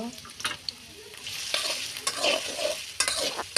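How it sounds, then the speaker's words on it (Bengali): Chopped onion fries in hot oil for a fish curry with pumpkin bori, a close, busy sizzle punctuated by repeated spatula scrapes against the pan. "তেলটা দিয়ে দিয়েছি, পেঁয়াজ কুচি দিয়ে দিব"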